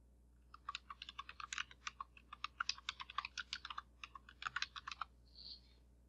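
Keys clatter on a computer keyboard as text is typed into Revit, a steady run of quick, close clicks for about five seconds with brief pauses, then silence.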